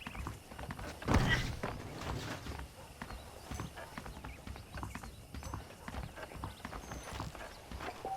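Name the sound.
horse hooves clip-clop, video game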